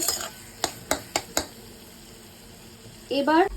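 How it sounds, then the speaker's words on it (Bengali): A spoon stirs brinjal and fried lentil dumplings in a pan, four sharp scraping knocks against the metal followed by a low sizzle, then a voice speaking briefly at the end. "ভালো করে নেড়ে নেব।"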